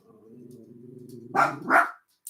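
A dog growls low for over a second, then gives two sharp, loud barks close by, followed by silence.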